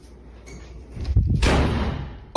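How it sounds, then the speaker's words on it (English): A door slams shut on its own with one sudden heavy bang, and its echo lingers briefly in a quiet interior. "the door behind him slams shut on its own"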